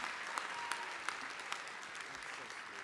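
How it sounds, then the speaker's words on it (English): A crowd at a comic convention panel claps steadily in sustained applause, moderately loud and even, with a few sharper claps standing out. "let's give her a round of applause."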